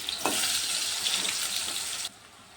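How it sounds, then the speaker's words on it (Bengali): Soybean pieces fry in hot oil, a steady dense sizzle close up that holds evenly for about two seconds, then drops off sharply to a quieter hiss, with no voices. "একটু ভালো করে ভাজতে হবে, ভালো করে ভাজলে টেস্টটা খুব ভালো হয়।"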